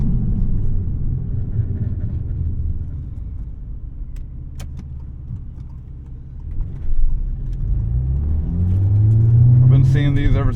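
A 1992 Dodge Stealth R/T engine drones low and steady from inside the cabin while driving, easing off in the middle and then climbing in pitch as it revs up near the end.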